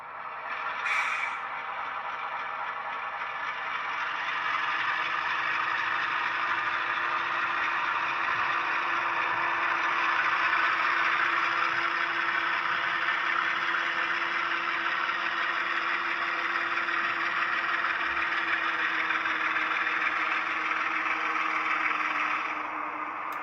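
A ScaleTrains CSX model locomotive with DCC sound runs in reverse, its diesel engine sound a steady, even hum with a mechanical whir, close and continuous for the whole stretch.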